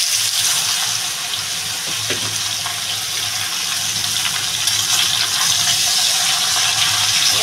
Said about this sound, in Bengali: এবার আমি লাউটা দিয়ে দেবো।